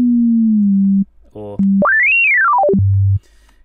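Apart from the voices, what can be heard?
sine wave tone from Ableton Operator synthesizer oscillator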